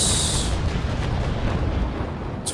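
Cannon fire from a sailing warship in Naval Action, the Bellona's guns, rolls out as a loud, deep rumbling roar that holds steady throughout, with no talking.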